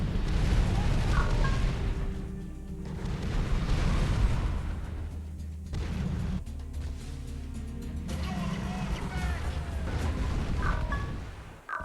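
Torrent artillery units spraying fire in a real-time strategy battle, dense roaring bursts and booming blasts layered with game effects, loud and continuous with surging waves throughout.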